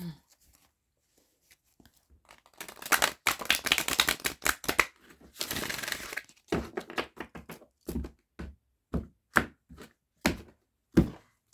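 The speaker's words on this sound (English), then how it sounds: "Put this in here, and we'll give it one quick shuffle." A burst of riffled card shuffling, followed by a string of sharp, separate taps and snaps as cards are bridged and set down.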